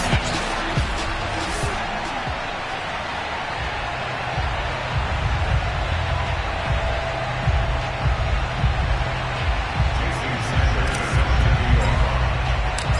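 Home stadium crowd in the Madden 22 football video game, a continuous roar of fans with swelling cheers, heard beneath a commentator's voice.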